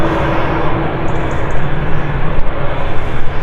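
Jet aircraft at Manchester Airport's south side give off a steady, loud broadband engine roar that holds evenly throughout, with no talk over it.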